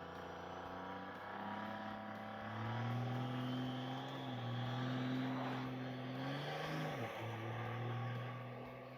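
Turbocharged car engine pulling while driving, a steady droning hum heard from inside the cabin, rising gradually in pitch and loudness before easing and dipping near the end; fairly quiet overall.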